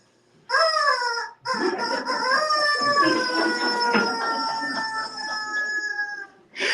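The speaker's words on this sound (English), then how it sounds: "they heard the rooster crow a second time" A single long, drawn-out rooster crow, loud and near, rising then holding steady for several seconds with a brief break early on.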